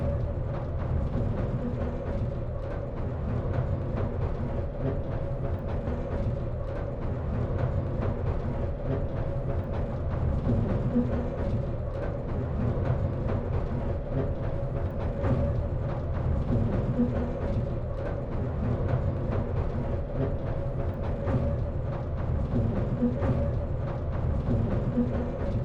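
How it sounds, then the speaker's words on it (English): The Southend Pier train keeps up a steady, dense rumble and rattle from inside the carriage, loud and unbroken throughout. "Quite rattles along, doesn't it?"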